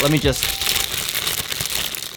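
Paper packing crinkles and crumples inside a Yeezy Boost 350 V2 sneaker box, a continuous close rustling over about two seconds, with a voice briefly audible at the start.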